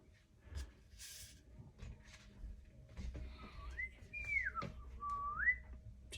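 Someone whistles a short, wavering tune of a few rising and falling notes, close by, over faint room noise and light clatter.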